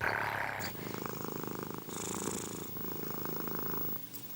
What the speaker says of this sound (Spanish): ¿Cómo es el ronroneo? Este ruidito que hacen de...